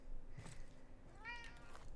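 Cat meows in a video game about patching walls with putty, two short meows, the second with a rising whine, heard fairly close over low background hum.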